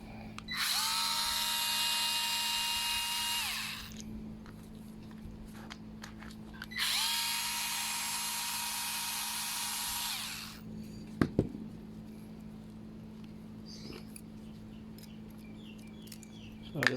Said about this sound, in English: undoing the idle screw will allow us to access the screw